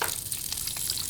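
Diced white onion sizzles in olive oil in a Dutch oven, a dense, bright, continuous crackling hiss heard close and alone.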